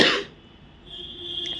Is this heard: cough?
yes